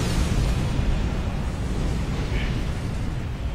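Dense, rumbling explosions from a starship torpedo spread in a Star Trek Online space battle, loud and continuous with a low roar.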